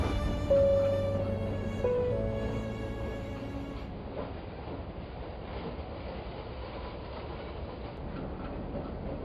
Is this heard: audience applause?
no